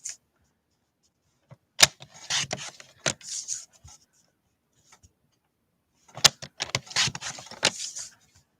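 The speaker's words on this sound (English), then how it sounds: "We're going to cut 1 inch strips." Paper being cut into 1-inch strips, two separate bursts of crisp snipping and rustling close by, with quiet gaps between them.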